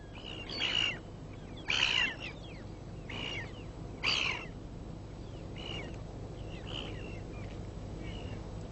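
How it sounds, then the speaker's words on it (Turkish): A flock of ivory gulls gathers over a polar bear kill in the Arctic, giving several sharp, mewing calls in short bursts over a steady background rumble, with a narrator speaking throughout. "fil dişi renkli martılar da bu av partisinde kendilerine düşen payı almak için üşüşüyor"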